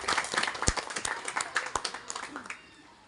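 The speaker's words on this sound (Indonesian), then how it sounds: "Kita berikan tepuk tangan kepada 15 wisudawan dan wisudawan." Applause for graduates at a vocational school farewell ceremony, a short burst of crowd clapping heard fairly faintly with a speaking voice over it.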